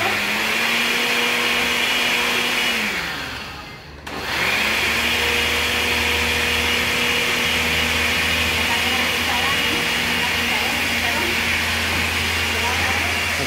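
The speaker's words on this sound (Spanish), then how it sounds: "Primero vamos a licuar." Blender blending chiles (chile pimiento) and onion for a kak'ik recado: a loud, steady whirring motor that drops out briefly partway through, then resumes and runs evenly to the end.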